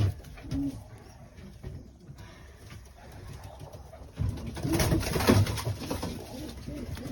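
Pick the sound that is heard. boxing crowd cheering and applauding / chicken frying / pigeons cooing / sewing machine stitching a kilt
pigeons cooing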